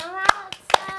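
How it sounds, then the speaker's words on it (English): Children at a library storytime clap their hands, two sharp distinct claps standing out over a faint sustained sung or spoken tone, close and moderately loud. "Can you clap your hands?"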